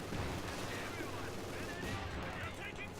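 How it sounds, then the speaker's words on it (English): A German MG42 machine gun opening up in Company of Heroes 2, its dense rattle buried in a continuous wash of battlefield noise with distant firing, faint and steady throughout. "MG42 opening up on the conscripts in the center, getting a suppression."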